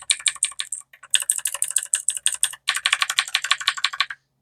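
Rapid clacking of keys on a computer keyboard, close and crisp, in quick bursts with a brief pause between runs.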